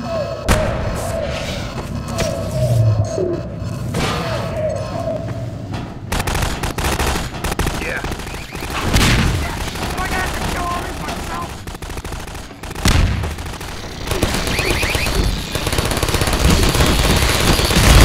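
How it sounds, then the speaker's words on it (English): Rapid gunfire and heavy thuds from combat in the video game Half-Life 2: Episode 2, with bursts of shots, impacts and a loud, dense battle din running throughout. "This wall of bullets might be wider."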